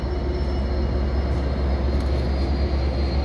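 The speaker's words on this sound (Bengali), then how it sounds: "শিকাগো থেকে একটি ট্রেন" A double-decker local train from Chicago pulls into a suburban railway station on a snowy day, a steady, loud low rumble of rolling cars with a faint high whine running continuously.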